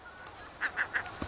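Coastal birds, with spoonbills breeding nearby on an island, give three short honking calls in quick succession, faint and distant over a soft background hiss.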